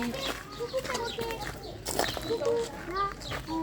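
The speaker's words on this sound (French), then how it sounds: "il y a des perroquets en haut, regardez" Parrots at a zoo give a mix of squawks and whistled calls, moderately near, heard under and between people talking.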